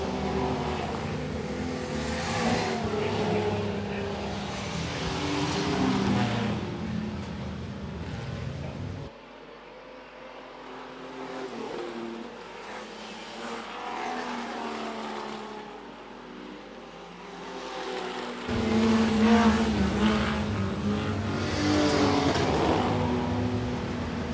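Modified production race cars roar up the main straight at Gympie Speedway during a night meeting, engines loud and close as they pass, with a quieter dip midway before a second surge of engine noise builds again.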